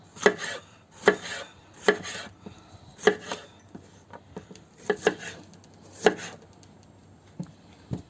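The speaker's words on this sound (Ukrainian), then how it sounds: "Наступним нарізаємо фарчик." Meat filling for stuffed peppers cut on a board, with crisp knife chops landing in short rhythmic bursts and pauses between them, close and clear with no talking.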